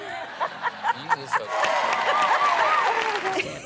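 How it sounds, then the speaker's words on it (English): Audience at a Kamala Harris event breaks into applause after a few separate claps, then steady clapping mixed with chuckles and crowd chatter, fairly close and lively. "You may clap."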